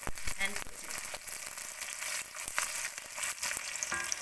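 Spices and onions frying in hot oil for an Assamese chicken and banana flower dish, with red chilli and bay leaf added. A steady high sizzle runs throughout, with a few brief clinks and stirring sounds, close and moderately loud.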